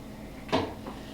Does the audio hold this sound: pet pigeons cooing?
no